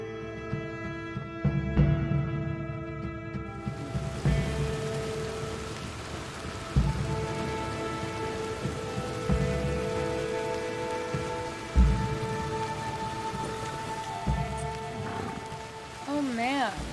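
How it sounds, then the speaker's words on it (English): Steady pouring rain in the video game Red Dead Redemption 2, a dense wash of hiss with occasional low rumbles of thunder under sustained tonal game music, and a voice briefly heard over it. "it's pouring rain."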